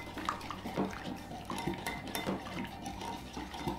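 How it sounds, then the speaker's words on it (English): A spoon scrapes and clinks against a bowl while PB2 peanut butter powder is stirred into water, a steady run of small knocks and swishes close by with no talk. "Okay, let's mix it around, and if we need to add more water, we will. And you just wanna stir it till it's smooth."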